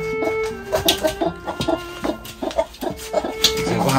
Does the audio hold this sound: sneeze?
no